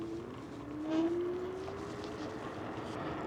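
Steady electric whine of a 1200W ZU06 commuter e-scooter riding in gear 2 on a rough road, a rising motor tone over continuous wind and road rumble, fairly quiet and without speech.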